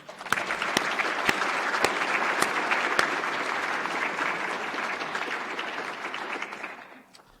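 Sustained applause from an annual meeting awards audience, steady clapping that holds for several seconds, then tapers off near the end.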